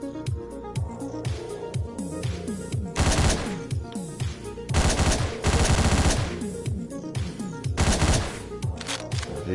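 Rapid gunfire from the top-down action game Hotline Miami, bursts of loud shots and sharp clatter over a pulsing electronic music track, no talking.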